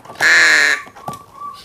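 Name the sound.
crow cawing while being hand-fed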